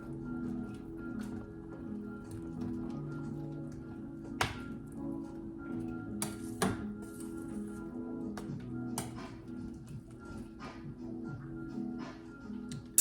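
Sliced purple onion is stirred into a pot of cooked rutabagas, making faint, scattered taps, clinks and soft thunks of a spoon against the pot over a low background hum.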